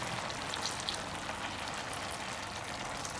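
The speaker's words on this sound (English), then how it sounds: "Pouring the sauce on it." Sauce poured over yakisoba with chicken, carrots, cabbage and sweet pepper in a hot pan, a steady close sizzle and hiss that runs unbroken for a few seconds.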